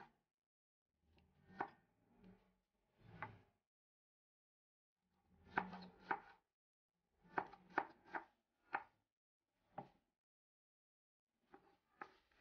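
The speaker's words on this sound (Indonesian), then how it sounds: "Jamurnya juga dipotong sesuai selera ya." Mushrooms are sliced with a knife on a cutting board for a stir-fry of bell peppers and mushrooms, giving sharp, close knocks in short irregular bursts with brief pauses between them, and no talk.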